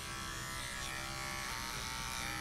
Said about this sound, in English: That's why these cordless clippers come in really handy.